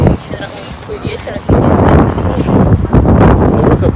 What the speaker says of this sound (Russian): такой ветер.